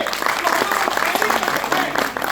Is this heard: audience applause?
yes